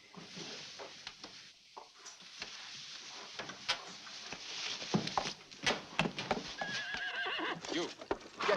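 A horse neighs and its hooves clip-clop on hard ground in a 1987 film scene set at Sobibor, faint and fairly close, with scattered knocks and a brief whinny among the hoofbeats.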